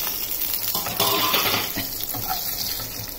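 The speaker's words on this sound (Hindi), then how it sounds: "देखिए ये तड़कने की आवाज आ रही है।" Spices tempering in hot oil for a Chhattisgarhi farre dish, giving a steady broadband crackle and sizzle that stays fairly loud and even throughout, with no talking.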